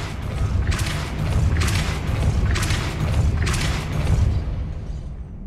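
Depulso force spells in Hogwarts Legacy: four heavy, booming magical blasts repeating at a steady pace, each with a deep rumbling body and a bright rushing burst on top, loud and close with no talking.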